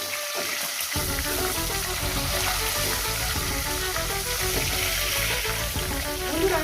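Tilapia fish frying in a pan of oil, a steady loud sizzle and crackle throughout with no pause for talk.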